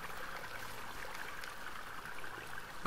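A waterfall in the video game Rime, a soft, steady rush of falling water, faint and continuous with no voices over it.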